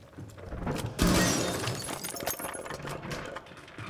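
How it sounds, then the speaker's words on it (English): Glass shatters in the tactical shooter Rainbow Six Siege: a sudden loud crash, followed by scattered tinkling and crunching shards that fade over the next few seconds. "You're obsessed with breaking all the glass."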